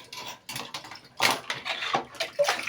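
Items being rinsed in water at home, with intermittent splashes, sloshing and light clinks of dishes or containers in quick irregular bursts, close by and moderately loud.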